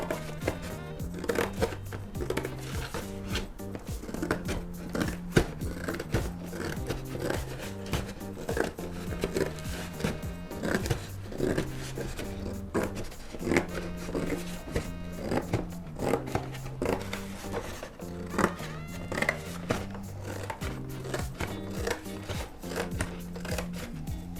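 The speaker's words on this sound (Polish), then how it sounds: "tutaj kroi ten karton takim ruchem krawieckim" Tailor's scissors cut through cardboard with steady repeated snips and crunching scrapes, close and continuous, while music plays throughout.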